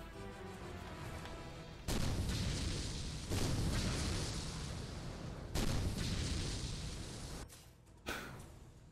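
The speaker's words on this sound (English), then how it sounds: "And we have big cannon." A big cannon fires repeatedly in the video game Ninja Gaiden Sigma 2, with loud, heavy booming blasts landing about every two seconds, each one followed by a rumbling decay.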